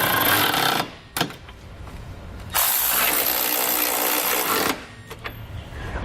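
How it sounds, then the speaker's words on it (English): Ratchet with a 19mm socket snugging trailer hitch bolts on a 2017 Toyota RAV4, giving bursts of rapid mechanical clicking and rasping, loud and close, in two long runs with quieter gaps between. "I'm going to come back with a 19mm socket and snug it all up."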